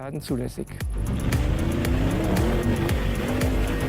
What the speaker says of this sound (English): we then drive over the entire patchwork quilt of ice and asphalt with full load acceleration